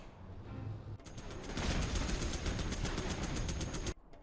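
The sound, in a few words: units force firing on oil in Generals Zero Hour video game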